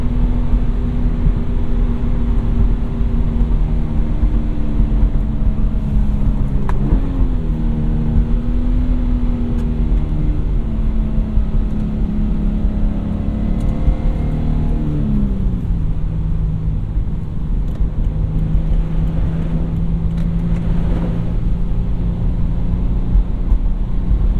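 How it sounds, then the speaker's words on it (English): A 2017 Toyota 86 manual engine drones steadily from inside the cabin, with piped-in induction noise, its low tone rising and falling with gear changes and throttle, continuous and moderately loud. "I do prefer the piped in induction type noise that this car has."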